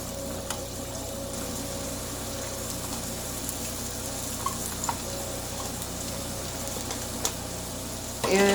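Diced onion sizzles steadily in heated salted butter and oil, a constant close frying hiss with faint occasional pops and utensil taps, no voices.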